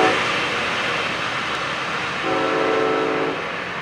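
A train passes at track speed through a junction, with a steady, loud rolling rumble and a sustained horn blast partway through.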